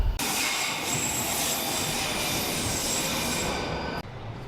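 A London Underground tube train rumbles steadily with a loud, dense roar and faint high wheel whine, then cuts off abruptly near the end.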